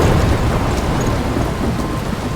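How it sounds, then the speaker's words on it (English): A heavy thunderstorm in the video game Life Is Strange: loud, dense rain roars without pause, with deep thunder rumbling underneath, close and enveloping. "I'm trapped in a storm?"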